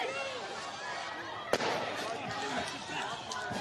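Police fire gas canisters at protesters; a sharp bang lands mid-clip over a steady roar of crowd noise, with people shouting and talking throughout.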